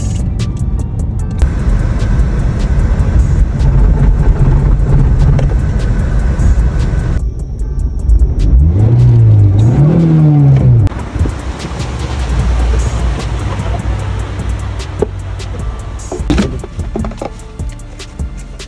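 A car creeps forward slowly with a steady low engine drone and rumble, the revs rising and falling in a brief swell midway, loud and close with no talking.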